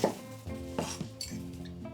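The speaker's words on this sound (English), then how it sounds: "So I'll start by chopping some celery." A knife striking a cutting board while chopping celery in a home kitchen, with several distinct, fairly close thuds in an uneven rhythm and no talking.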